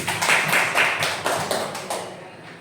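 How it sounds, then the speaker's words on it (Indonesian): Brief applause in a school class for a teacher, several quick rhythmic claps from a few people, close and clear, fading out at the end. "Aplaus buat ibu Mili"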